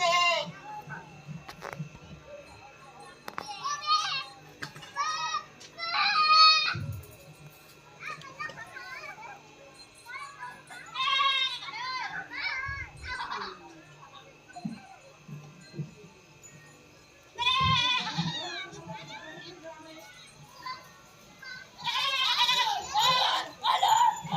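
Goats bleat repeatedly in short bursts while children chatter and play nearby.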